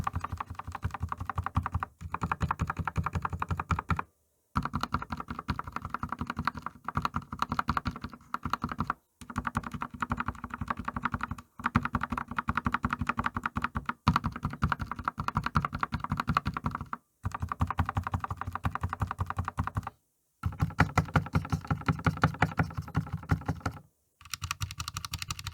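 Someone types steadily on a modded budget GK96s mechanical keyboard, producing dense, close, clacky keystrokes in continuous bursts separated by brief pauses.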